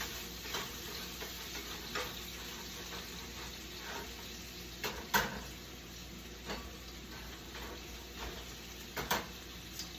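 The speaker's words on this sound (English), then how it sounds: "you can stir it just to soak up some of the grapeseed oil" Sweet potatoes and green beans sauté in grapeseed oil, a faint continuous sizzle broken by scattered light clicks and scrapes of stirring in the pan, spaced a second or two apart.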